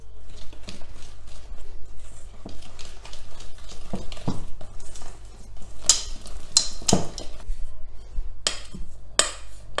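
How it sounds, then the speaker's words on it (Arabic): Dough being mixed in a bowl as flour is gradually worked in for a no-bake jarara sweet, giving soft irregular clinks, taps and scraping stirs at close range with no talking. "نخلطوه،"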